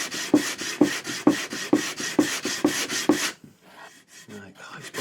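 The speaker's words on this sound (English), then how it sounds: "Take some of that filler off that he put on there." Filler being scraped off a surface by hand, a steady run of about seven rhythmic rasping strokes, close and fairly loud, then stopping into quieter handling noise.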